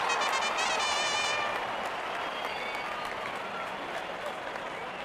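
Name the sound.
cricket fans applauding a shot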